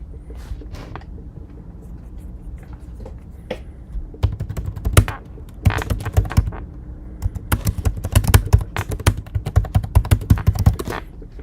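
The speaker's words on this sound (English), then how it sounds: "I type hard. Type hard and fast." Hard, fast typing on a computer keyboard, dense bursts of sharp clacking keystrokes with short pauses, starting sparse and growing busier and louder, close by with no talk.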